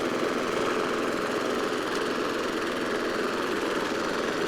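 A restored Murray 22-inch walk-behind lawn mower runs at a steady, slightly low idle. Its small engine gives a constant buzzing drone with no breaks, heard up close and alone.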